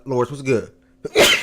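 A single sharp sneeze bursts out close by after a man's brief spoken greeting, followed by a short pause.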